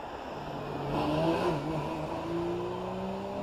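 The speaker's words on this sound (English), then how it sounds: "up to the line comes number 125 Carl Lupton in the 944, again 3 litre motor" Porsche 944 with a 3-litre engine racing up the Prescott hill climb, its engine note droning steadily at moderate distance with rising and shifting pitch, no voices over it.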